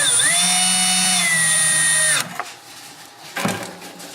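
A powered screwdriver drives screws to fix a shaker motor to the chassis of a Ghostbusters Premium pinball machine: a steady, close motor whine for about two seconds, then it stops, followed by a faint clack.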